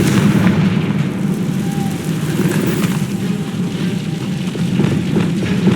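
A Confringo blasting spell goes off in Hogwarts Legacy, a dense, sustained rumbling roar with booming low end that stays loud throughout, with no talk over it.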